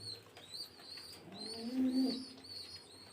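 Pet pigeons coo in a breeder's loft, one low rolling coo rising clearly over quieter background bird chirps and twitters, close and fairly soft.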